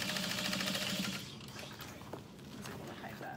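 A sewing machine stitches in a quick, quiet burst of about a second, then stops, leaving faint low sounds.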